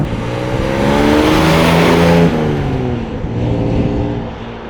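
A 1958 Jaguar XK 150 drop head coupé with a 3.8-litre straight engine pulls away hard, its loud, rising engine note climbing through the revs, easing briefly, then building again up close with no one talking.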